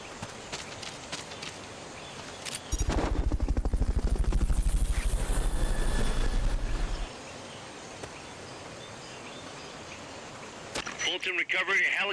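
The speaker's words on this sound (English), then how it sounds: "Fulton recovery helicopter is complete." Fulton recovery helicopter in the video game Metal Gear Solid: Peace Walker, a loud rotor thump that sets in abruptly, runs steadily for about four seconds, then cuts off, with game noises around it.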